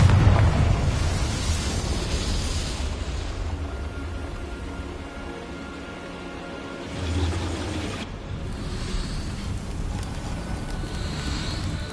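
Confringo, a fire spell in the video game Hogwarts Legacy, explodes in a long roaring rumble with fiery crackle, swelling again midway and then fading into a lingering windy wash, with no voices.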